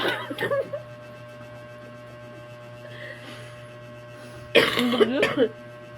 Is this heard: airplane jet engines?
no